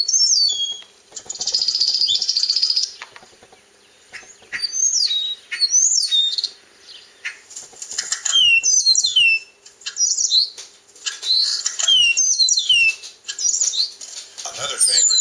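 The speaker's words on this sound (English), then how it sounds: "Another common motif, at least in this group of Oklahoma starlings, is an eastern meadowlark call." An Oklahoma starling repeats an eastern meadowlark call, with clear, slurred whistled phrases in several bursts separated by short pauses, mixed with chattering and clicking song, close and fairly loud.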